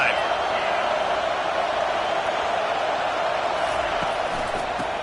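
Stadium crowd at an FSU vs. Clemson college football game, a loud, steady roar of cheering voices that holds without a break from start to finish.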